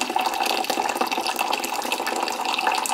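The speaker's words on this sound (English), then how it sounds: "Or you can press the button and have it pour out a cup of hot water." Hot water streams from a push-button water dispenser into a cup, a steady close hiss and splash that runs unbroken throughout with no talking.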